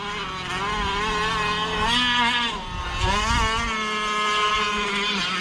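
A huge 1/5 scale gas-powered RC car, a 30 Degrees North DDT on its first run, its small two-stroke engine buzzing loud and close with rising and falling revs and throttle blips, no talking.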